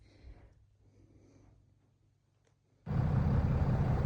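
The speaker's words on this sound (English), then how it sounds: "The truck is a little loud" A truck passes outside a house with a wraparound porch: after a near-silent stretch, a loud broadband roar bursts in and holds steady to the end.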